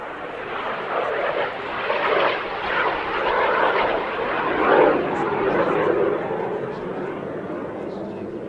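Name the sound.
Jet Provost T3A jet aircraft flying at an airshow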